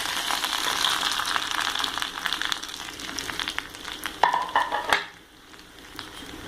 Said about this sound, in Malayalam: നല്ലോണം ബ്രൗൺ നിറമാവുന്നവരെ ഇളക്കി കൊടുക്കാം.